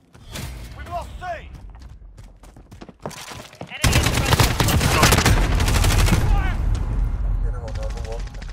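Sustained automatic gunfire in Call of Duty Modern Warfare domination match, with a quieter opening of sporadic shots and voice callouts, then dense, loud, continuous bursts from about four seconds on, with voices heard over it.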